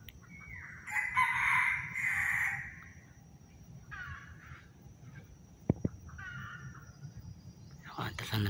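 A free-roaming rooster, accompanied by a hen, crows once in a loud, clear call outdoors, followed by quieter broken crowing phrases and scattered background rustling and voices.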